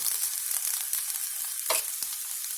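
Rice flour dhirde frying in a pan, a constant bright sizzle of hot oil close up, with a few soft thuds and scrapes as it is turned over.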